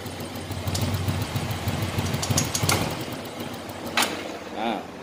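A Yamaha Mio Z scooter with a stuttering, underpowered engine idles roughly and unevenly nearby, a steady low mechanical chugging with a voice talking over it.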